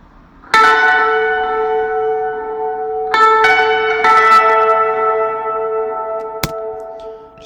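Clean electric guitar through a Heavenly Tweed amp patch in a Logic project, bright bell-like strummed chords ringing out with long sustain, three strikes, then a short sharp tap near the end; no talking.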